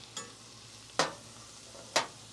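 Chopped tomatoes stirred into shrimp frying in a cast iron skillet, giving three short scraping stirs about a second apart over a faint steady sizzle, with no talk.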